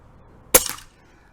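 A single sharp crack from an Umarex Notos air rifle firing a pellet outdoors in a backyard range, close and brief, followed by a short fading tail and then quiet.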